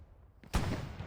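A sudden loud blast erupts from a quiet background in a World War II-style competitive war video game set at Mortain, followed by a rumbling, crackling tail of battle noise with no talk.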